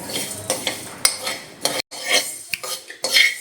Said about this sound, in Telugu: మెంతులు, యాలకులు వేసుకొని లో ఫ్లేమ్ మీద కాసేపు వేయించుకోవాలి